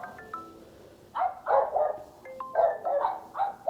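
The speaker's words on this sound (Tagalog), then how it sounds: "May nag-aaw-aw." A dog barks several times in quick succession, close and loud, with short gaps between the barks.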